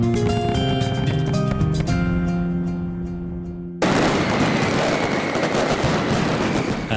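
Fireworks burst at the Fallas festival in Valencia, Spain: a loud, dense barrage of explosions fills the scene, first under sustained music-like tones, then as a sudden continuous roar of rapid blasts.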